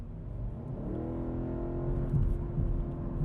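A 2020 BMW M850i Gran Coupe in Sport Plus mode revs up from inside the cabin, its engine note climbing steadily into a rising, moderately loud growl with a few low thumps near the end.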